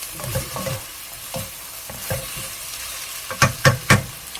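Oyster mushrooms stir-frying in a pan, with a spatula scraping and stirring in several distinct bursts over a steady low sizzle, the strokes bunching into three sharp scrapes near the end.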